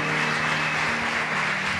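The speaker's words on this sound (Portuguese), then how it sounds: "Pode aplaudir, aplaude." Steady applause from a church congregation fills the space, a dense even wash of clapping close and loud, with a low hum beneath and no clear voices over it.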